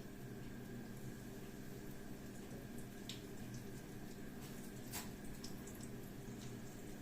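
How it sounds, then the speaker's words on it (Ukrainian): Hake and onion frying in a pan give off a quiet, steady sizzle with faint crackles and occasional small pops, low and continuous without talk. "О, вже потихеньку шкварчить"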